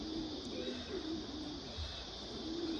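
Loft pigeons coo softly in low, rounded phrases, with a steady background hiss and no talking; the calls are faint and sit some distance away.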